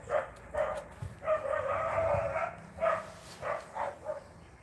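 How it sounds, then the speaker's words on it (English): A dog growls and then gives a string of short barks and yips, close and moderately loud, in uneven bursts with brief pauses between them. "She's growling at it now."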